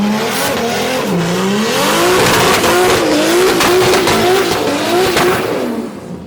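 A K24-swapped Nissan 240SX roars at high revs through a burnout in a home garage, with loud sustained engine wail rising and falling and tire squeal layered over it, close and continuous before easing off at the end.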